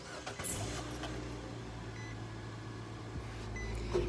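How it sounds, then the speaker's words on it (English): A 2014 Nissan Versa SV on a cold start, with a low steady engine drone running throughout and a slight swell near the end, over faint background noise. "Also, cold start on a 2014 Nissan Versa SV."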